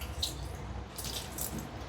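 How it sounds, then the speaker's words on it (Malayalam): Water pours into a mixer-grinder jar holding a batter for palappam, a steady soft splashing trickle that runs throughout at close range, with no talk. "കുറച്ച് വെള്ളം ഒഴിച്ചു കൊടുക്കാം,"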